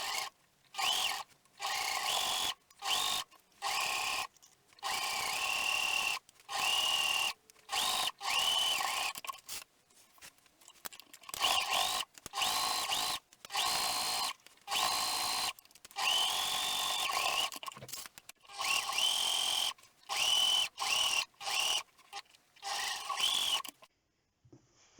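A sewing machine runs in repeated short bursts as it stay stitches the top of a shirt sleeve, whirring close and steady with frequent brief stops between runs.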